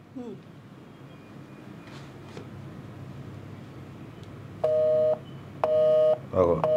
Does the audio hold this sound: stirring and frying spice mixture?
no